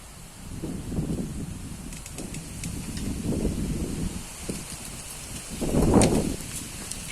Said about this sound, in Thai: เสียงฟ้าร้องดังมาแต่ไกลเลยนะคะ